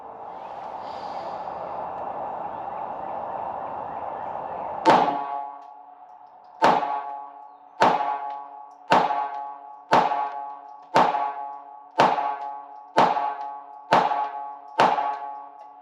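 Ruger Mark IV Tactical pistol firing CCI HV Match ammunition: after a steady hum, ten sharp shots ring out at a fairly even pace, each with a short ringing decay, loud and close.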